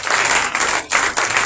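A church congregation at an opening conference of the Feast of Tabernacles claps loudly and continuously in dense applause, with a couple of brief dips in the clapping.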